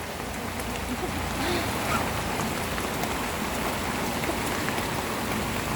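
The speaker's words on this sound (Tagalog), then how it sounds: "Kaso, inabot kami ng ulan." Steady rain falling outdoors in the Philippines, a dense, even hiss of drops on surfaces, loud and continuous throughout with no break.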